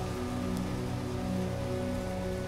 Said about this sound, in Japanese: さーっと雨が降る中